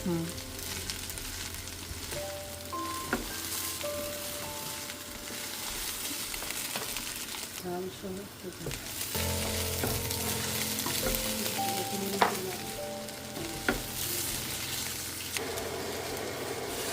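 Spices and two kinds of lentils frying for khichuri in a home kitchen pot, a steady close sizzle with stirring scrapes and clinks throughout, no voices over it.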